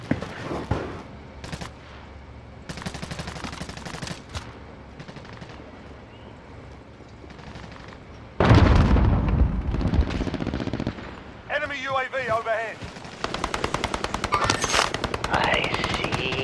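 Bursts of automatic and single gunfire crack through a Call of Duty: Modern Warfare match on Rebirth Island, coming in repeated volleys with a loud blast midway and game chatter mixed in.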